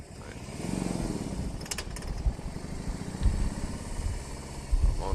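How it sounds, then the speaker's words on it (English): A heavy 900-pound motorcycle idles while stopped on a city hill, its low, uneven engine burble pulsing steadily close by, with a brief higher rattle partway through and traffic noise around it. "On a 900-pound motorcycle. Don't like stopping on hills."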